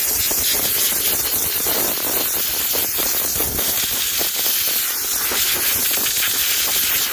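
A small air compressor nozzle blasts a continuous, loud hiss of air into a dirty keyboard, blowing debris out at close range without a break.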